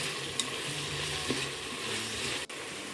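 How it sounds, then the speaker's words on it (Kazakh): Minced meat with garlic frying in a pan, a steady broadband sizzle with a few soft stirring scrapes, close and continuous, no voices. "Одан кейін үстіне сарымсағын салып қуырамыз."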